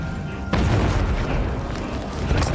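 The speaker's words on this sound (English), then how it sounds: "Fireball. Come on, attack." A fireball spell explodes in Final Fantasy XV, a sudden loud boom that hits near and then rumbles on as a broad, sustained roar for a couple of seconds, with a second swell at the end.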